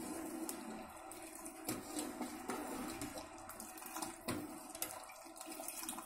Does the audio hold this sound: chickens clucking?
no